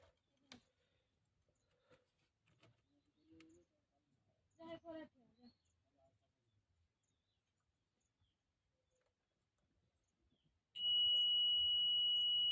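A digital multimeter in continuity mode emits a steady loud high-pitched beep while probing a resistor during home repair of an LED bulb, arriving after quiet clicks and a short stretch of talk.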